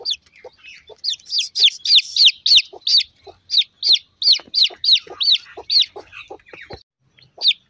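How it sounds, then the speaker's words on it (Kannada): Free-range country chickens on a home farm, a hen with her chicks, give a rapid run of repeated high peeping and clucking calls in quick bursts, close and fairly clear, tapering off toward the end. "ಸೊ ಮರಿ ಸೌಂಡ್ ಮಾಡಿದ್ಕೆ ನೋಡಿ ಅಮ್ಮ ಹೇಗೆ ಓಡ್ ಬಂತು ಅಂತೇಳಿ"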